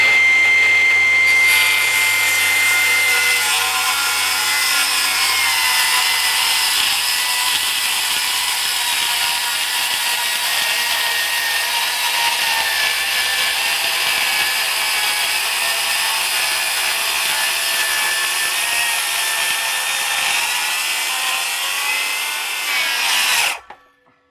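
A power saw cuts roof sheathing boards for a garage, one loud, steady whining buzz that holds for over twenty seconds before cutting off abruptly, close and alone.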